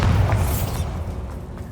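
Bombarda spell explosion in Hogwarts Legacy, a deep booming blast with a rumbling low-end tail that fades over a second or so, loud and close.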